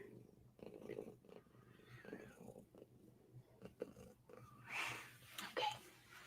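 A cat held right up to the microphone purrs softly, a low rumbling rhythm with small wheezy snuffles, faint and intimate.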